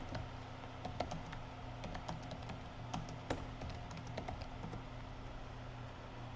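Steady typing on a computer keyboard, rapid light key clicks with occasional louder taps over a low room hum, no voices.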